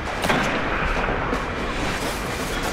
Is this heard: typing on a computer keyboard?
no